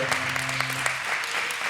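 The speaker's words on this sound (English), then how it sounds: "audience, give another nice big round of applause" Audience at a New Year's Eve comedy hypnosis show in Bradford clapping, a moderate spread of hand claps with a low sustained tone underneath early on, no clear talk.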